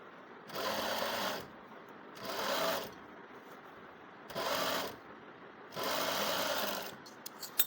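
Four separate bursts of steady, close sewing machine whirring as a sleeve seam is stitched, each lasting about a second, with quiet gaps between them.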